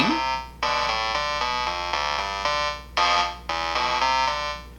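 Bright electronic notes from an online song maker step through a short looping melody, each tone sustained briefly before shifting to the next, clean and synthetic with no voices.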